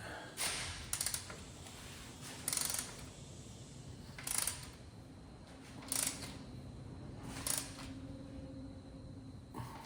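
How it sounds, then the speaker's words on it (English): A nut being tightened on a stud while fixing the fuel pressure on a 1970 GMC 2500 truck, heard as quiet, intermittent metallic ratcheting clicks in short bursts every couple of seconds against a faint background hum. "So now I can remove the outside nut and tighten down the inside nut."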